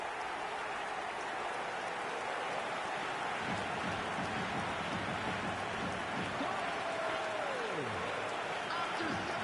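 Crowd roaring and cheering after a goal in an eFootball match, a broad, sustained wash of stadium noise with a sweeping, falling tone near the end.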